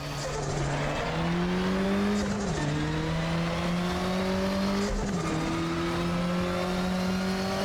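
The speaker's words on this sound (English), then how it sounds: "Oh, the turbo noise sounds very nice." A race car with a turbocharged engine in the RaceRoom racing game on the Macau track drones steadily as it climbs through the gears, its pitch rising repeatedly with brief dips at each shift, loud and continuous with no talk.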